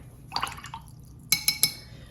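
A paintbrush dabs and clinks in a water jar while thinning watercolor paint for a Halloween cat picture, giving soft close drips and taps, then three sharper glassy ticks near the end.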